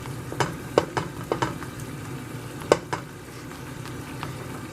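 A patty melt sandwich sizzles on a hot skillet in a steady, close frying hiss, broken by sharp clicks and scrapes as it is pressed down.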